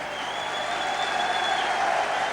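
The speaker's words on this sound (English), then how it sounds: "Receiving a tremendous round of applause." A stadium crowd at a 1986 St Helens versus Carlisle rugby league match applauds substituted players, a broad, sustained roar of clapping that holds steady and swells slightly, with faint crowd noise beneath.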